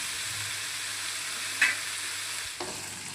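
Chopped ivy gourd (dondakaya) with salt sizzles and softens in a pan, a steady moderate frying hiss with a brief stirring scrape partway through and a soft clink near the end.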